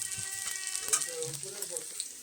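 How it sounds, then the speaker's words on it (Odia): Onion and chili frying in oil give a faint, close, steady sizzle with a few light clinks and scrapes, a voice softly present in the background. "ଖାଲି ପିଆଜ ଆଉ ଲଙ୍କା ଟିକେ ପକେଇକି ତେଲ ଦେଇକି"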